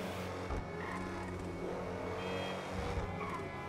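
Pegassi XA-21 supercar accelerating hard in GTA V, a steady, loud, rising engine roar with a layered harmonic whine, close and continuous, with no talk over it.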